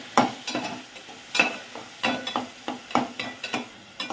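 Chopped tomato fries in a pan with a low sizzle, punctuated by repeated spatula scrapes and taps as it is stirred in an uneven rhythm.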